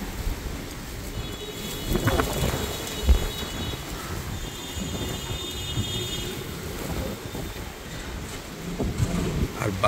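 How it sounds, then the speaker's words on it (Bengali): Strong storm wind roaring outside an urban apartment window during a sudden rainy squall, a dense rushing gust noise with low rumbling buffets and rattles, heard close and fairly loud. "আর বাতাসের যে সাউন্ড আপনারা হয়তো শুনতে পাচ্ছেন কিছুটা,"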